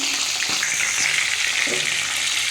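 Steady, close oil sizzling and crackling as a fish head fries in a pan, with a few faint knocks of a utensil.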